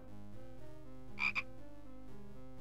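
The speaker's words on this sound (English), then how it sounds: "Big frog." Two short bright croaks from a large frog in the Simon the Sorcerer point-and-click adventure, standing out briefly over a steady layered music bed, with no talking.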